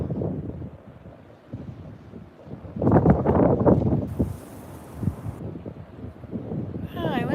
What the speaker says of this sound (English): Why it's so windy.